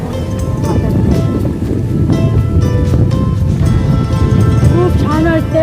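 Strong wind buffets the microphone on Anjuna beach in Goa, a constant loud roar blended with surf, while people talk throughout over the blustery noise.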